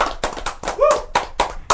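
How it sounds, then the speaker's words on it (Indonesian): A handful of people clap on a casual Indonesian talk show, giving about eight sharp, distinct claps in a loose rhythm with a brief whistle-like tone in the middle. "Tepuk tangan guys."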